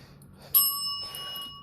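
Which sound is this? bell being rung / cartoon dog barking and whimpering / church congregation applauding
bell being rung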